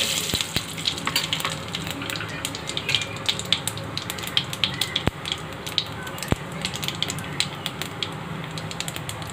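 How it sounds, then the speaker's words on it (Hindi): Cumin seeds crackle and sizzle in hot oil, a steady hiss dotted with sharp pops and sputters throughout. "जीरे का तड़का डाल रही हूँ।"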